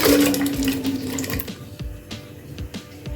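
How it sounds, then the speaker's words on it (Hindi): Water pours from a glass into a pan on a stove, about four glasses for a raw mango murabba, giving a steady splashing gush that tapers off into dripping and light clinks, with no talking. "अब मैं इसमें ऐड कर रही हूँ पानी"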